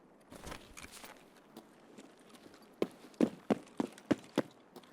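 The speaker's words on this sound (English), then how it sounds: "I heard footsteps over this way." Footsteps in a video game, a run of sharp, distinct thuds in a quick irregular sequence, preceded by fainter shuffling steps, with no speech.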